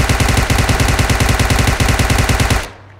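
Rapid automatic fire from a UMP submachine gun in PUBG Mobile, a loud, even stream of close gunshots that runs for about two and a half seconds before cutting off into quiet.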